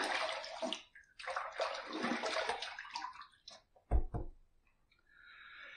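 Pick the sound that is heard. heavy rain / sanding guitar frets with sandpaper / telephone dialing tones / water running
water running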